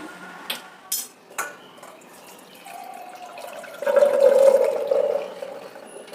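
A few clinks of metal dishes, then a rushing pour of water draining from cooked chickpeas that swells for a couple of seconds before tapering off.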